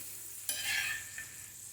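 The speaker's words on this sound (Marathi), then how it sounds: "एकदम मंद आचेवर हे तुम्हाला भाजून घ्यायचे आहे" Dried bombil, Bombay duck, roasts in oil on a low flame, a soft steady sizzle with a brief stir of the fish partway through, quiet and close.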